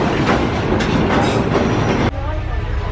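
Loud, steady rumble of a train on the rails in Myanmar with rhythmic clacking, heard from inside, with a sudden shift in tone near the end.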